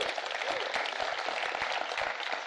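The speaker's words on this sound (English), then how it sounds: "Give them a round of applause." Applause from an audience at a city State of the City address, a steady wash of clapping hands at moderate distance, continuous and even for a couple of seconds.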